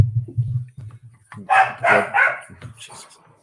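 Dogs bark loudly close by in a short burst of several sharp, overlapping barks, following a few low grumbles and softer yips at the start.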